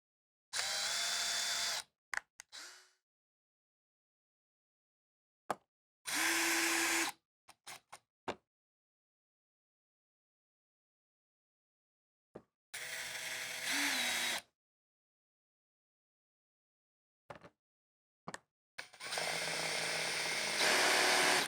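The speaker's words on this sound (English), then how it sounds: "Install the screws attaching the rooftop cover to the air conditioner." A power drill drives the screws fastening the rooftop cover onto a Furrion RV air conditioner, in several separate whirring bursts of a few seconds each, close and loud, with silent gaps between them and no talking.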